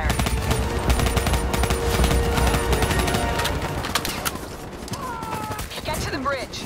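Sustained bursts of covering gunfire in Call of Duty: Black Ops 3, a dense rattling fusillade filling the scene at steady loudness, fading slightly toward the end as a few birdlike chirps and whistles rise over it.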